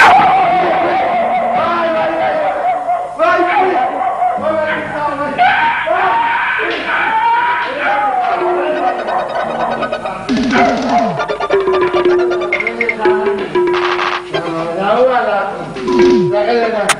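A dog yips and barks repeatedly, with some whimpering, close and loud, mixed with other voices throughout.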